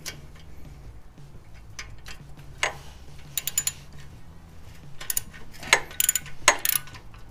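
Ratchet wrench with a 12mm socket and extension working bolts loose during an oil change on a Yamaha V Star 1100 motorcycle: intermittent close ratcheting clicks in short bursts over a low background hum.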